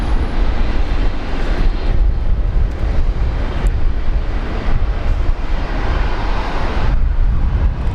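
A Singapore Airlines airliner taxis out at Brisbane Airport with a loud, steady engine roar and broadband rumble throughout.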